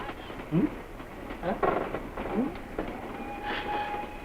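Train pulling into a station in an old Tamil film scene, with distant rumbling rail noise, a few clanks and a faint squeal under brief voices.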